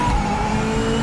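A race car in Project Motor Racing holds a loud, steady engine note while braking into a downshift to first gear, the tone shifting slightly, with no talk.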